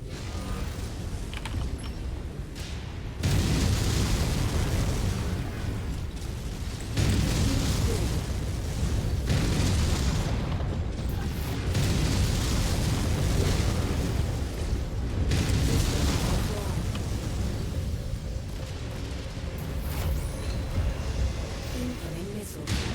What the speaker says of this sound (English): That killed reactor is about to go.